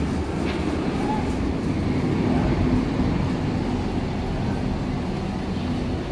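Berlin U-Bahn F-type train at Kurt-Schumacher-Platz station, a steady loud rumble of the train in the station that holds the same level throughout without letting up.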